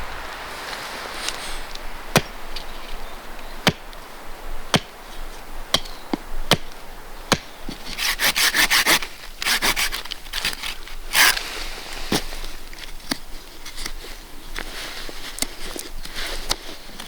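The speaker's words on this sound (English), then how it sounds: "The reason why you chamfer the top of the tent stakes is to stop it mushrooming out when you hit it with the axe." Wooden tent stakes struck one at a time with an axe to chamfer their tops in a forest camp: sharp, evenly spaced chops of about one every second, close and loud, with a brief burst of rustling midway and no talk.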